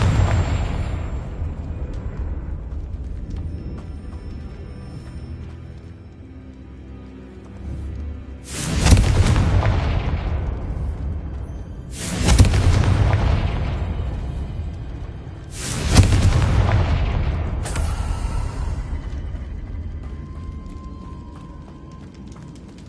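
Confringo explosive spell blasts from the video game Hogwarts Legacy: three sharp, booming bursts a few seconds apart, each decaying into a rumbling tail over a steady background din.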